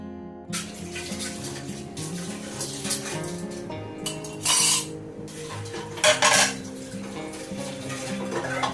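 Dishes and utensils are washed at a kitchen sink in a home, with running tap water under repeated clinks and clatters of pots, plates and cutlery, plus a few louder splashing bursts.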